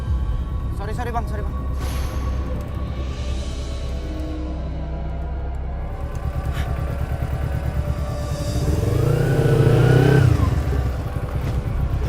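A motorcycle engine idles and then revs up, with a rising, throaty drone that peaks near the end, beneath and between stretches of talk.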